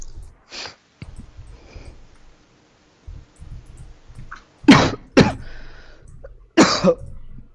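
A few sharp, explosive bursts in quick succession near the end, like sneezes or coughs, preceded by faint breathy noises in a quiet room.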